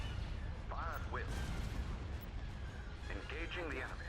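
Artillery batteries in the Star Wars Thrawn's Revenge space strategy game fire in a dense, continuous barrage of booming shots, with game voices speaking over the steady rumble of combat.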